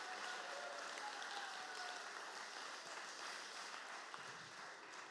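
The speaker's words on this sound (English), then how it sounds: "Let's give these guys another round of applause" Applause from a church congregation, a steady dense wash of clapping filling the whole moment at a soft, distant level with no voices on top.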